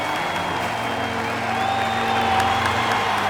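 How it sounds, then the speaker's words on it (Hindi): A crowd applauds and cheers in a dense, continuous wash of noise that swells slightly partway through and holds steady to the end. "ये लो तालियां।"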